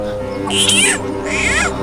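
Frogs cry out from behind a house, as if something is eating them: two loud, shrill, wavering squeals rise above a droning background. The first is longer and the second follows after a short gap, with no talk over them.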